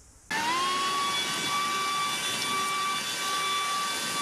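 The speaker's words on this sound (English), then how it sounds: "is that an olive green 18 volt dust blower?" An olive green Makita 18 volt cordless dust blower starts abruptly and runs at a steady, loud, high-pitched whine with a rushing airflow for about four seconds.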